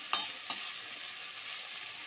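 Freshly washed mint leaves with dried red chillies frying in oil for chutney, a steady hissing sizzle opening with a couple of brief clinks.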